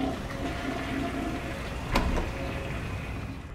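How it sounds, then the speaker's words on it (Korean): A toilet flushes in a film scene from No Country for Old Men: a steady, close rushing of water that swells briefly in the middle and then drains on evenly, with no voices. "영화는 변기물 내리는 소리를 들려주며"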